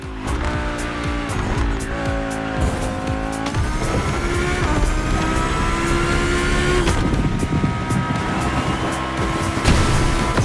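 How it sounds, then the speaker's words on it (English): Audi R8 Spider racing in The Crew Motorfest video game: a loud, continuous engine note rises and shifts through gears with tire squeal, sustained without pause and with no voices. "And that's the Audi, ladies and gentlemen. The R8 Spider rules the streets."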